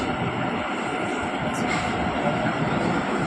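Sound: metro train arriving at station

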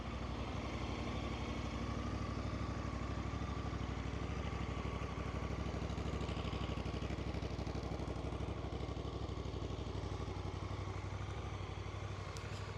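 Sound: motorcycle engine idling

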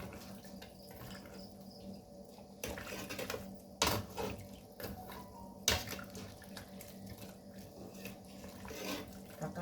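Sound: adding water to pickled mustard greens soup pot

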